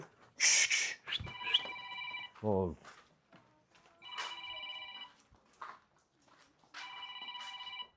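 A phone rings in repeated electronic bursts at a livestock market selling Simmental calves, with a person talking between the rings.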